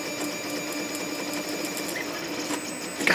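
An Orcinus Orca 3D printer running a 600mm/s, 35K acceleration speed test gives a steady, dense mechanical whir and buzz with faint rhythmic pulsing, close and continuous.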